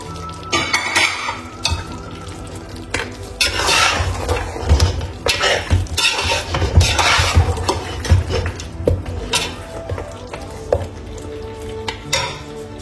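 Tomato going into a pot of lamb curry and being stirred, with close, loud scraping and clanking of a utensil against the pot over a soft sizzle, in repeated uneven strokes and no talking.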